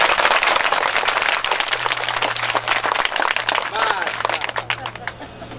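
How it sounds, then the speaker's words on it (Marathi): Crowd at an outdoor Buddhist gathering in a Maharashtra village claps loudly and continuously, a dense wash of hand claps with a steady low hum underneath, fading slightly toward the end. "त्या सगळ्यांसाठी जोरदार टाळ्या वाजवायच्या."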